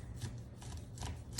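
A knife slices kernels off a washed ear of corn, going around the cob for fried corn, giving quick soft scraping cuts in a short close burst with no talking.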